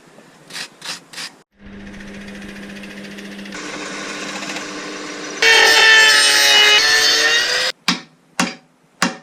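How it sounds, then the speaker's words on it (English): A wire brush scrubs a fresh weld clean, with short sharp strokes at the start and end and a longer, louder stretch of continuous scraping and rasping through the middle. "clean with a wire brush"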